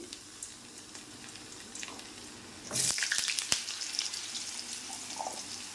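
Two diced potatoes drop into hot oil in a pan; after a quiet stretch a sudden loud sizzling burst erupts and settles into a steady, close frying hiss.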